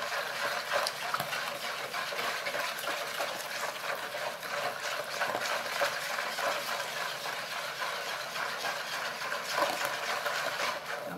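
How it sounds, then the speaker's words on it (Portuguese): Homemade soap of milk, baking soda and oil being stirred continuously, a steady close wet swishing and churning texture that runs without pause for the whole stretch, with no voices. "Sempre mexendo"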